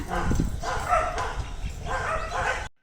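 Dogs from a pack of about twenty kept around a house bark and yip close by in a rapid, continuous burst with a few whimpering notes mixed in.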